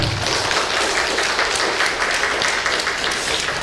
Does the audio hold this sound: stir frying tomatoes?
no